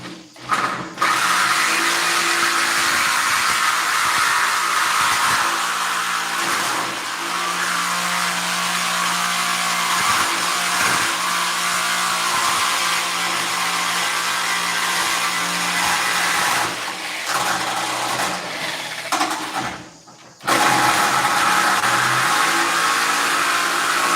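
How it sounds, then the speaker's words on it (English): A Sawzall reciprocating saw with a new blade cuts steadily in a car workshop, a loud, sustained buzzing drone broken by brief pauses and a short stop near the end before it resumes. "Just beating up on the new Sawzall blade."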